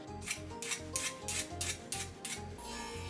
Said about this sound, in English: there's still a little bit of hand filing that I need to do